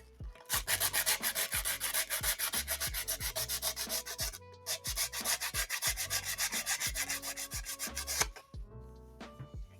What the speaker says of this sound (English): it looks like it's just painted plastic because it's gumming up the sandpaper something fierce